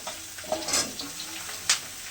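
Ridge gourd and vegetable stems fry in a pan with a steady sizzle, cut by a couple of sharp, brief clatters as they are stirred or tossed in.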